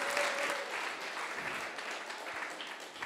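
Audience applause for the next presenter at a Paris coding bootcamp demo day, a dense burst of many hands clapping that stays fairly even for about three seconds.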